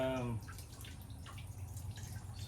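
Coolant draining from a 2011 Toyota RAV4 during cooling-fan work, a steady trickle and drip of fluid close by after a short tonal whine at the start.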